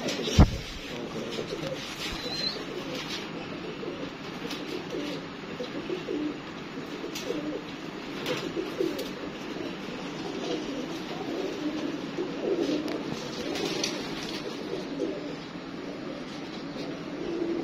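Pigeons coo softly and repeatedly nearby, a steady low burbling that carries on throughout over faint background noise.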